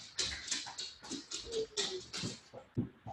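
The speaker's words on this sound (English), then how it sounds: "the dog's going to start barking" A dog indoors gives a rapid series of short whimpers and yips, fairly quiet and close, with no bark clearly separated from the whining.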